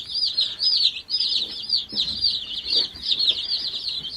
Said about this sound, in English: here are the chicks